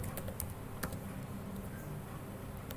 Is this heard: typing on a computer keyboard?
yes